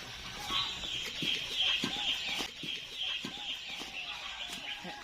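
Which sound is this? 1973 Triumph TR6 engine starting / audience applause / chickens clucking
chickens clucking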